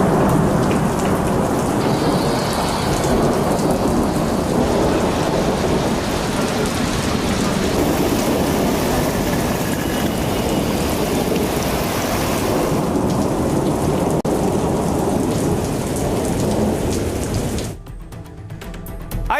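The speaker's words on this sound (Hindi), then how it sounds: "कई दिन बाद आज झमाझम बारिश हुई है, जिससे लोगों को गर्मी से राहत मिली।" Heavy monsoon rain pours down in Delhi NCR in a dense, loud, unbroken roar, with thunder rumbling beneath before the downpour fades near the end.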